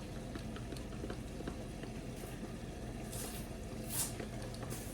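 A flour and water mixture is stirred into a pot of ham and potato chowder, making soft, faint sloshing and squishing sounds over a low simmering bubble.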